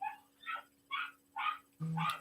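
A dog barks four or five times in a steady rhythm, fairly faint and somewhat distant, with no talking.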